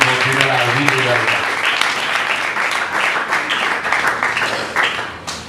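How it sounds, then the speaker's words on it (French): A church congregation applauds during a worship service, dense clapping filling the space while a voice and some tonal sound ring out at the start, the applause carrying on strongly. "on va applaudir le Seigneur, on va applaudir mon Dieu"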